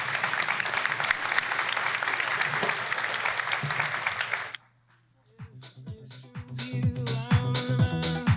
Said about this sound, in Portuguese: E palmas para eles